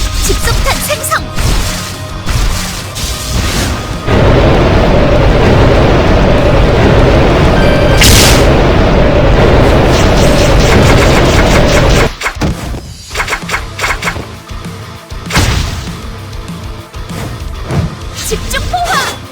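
Barrage fire and explosions from the Closers video game: loud, dense bursts of rapid blasts and crashing impacts in waves, with short pauses between volleys and a voiced character shouting over the action.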